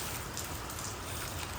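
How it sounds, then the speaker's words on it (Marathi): Rain falls steadily as monsoon showers begin, a faint, continuous broadband hiss with no break. "पाऊस पडायला लागलाय का नाही रे हा"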